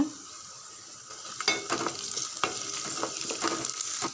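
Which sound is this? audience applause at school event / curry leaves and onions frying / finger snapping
curry leaves and onions frying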